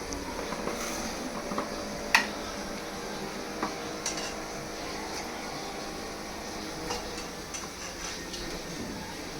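Potatoes go into a pot of prawn biryani masala and get stirred, making a steady close scraping and soft sizzle with occasional light clinks of a spoon against the pot.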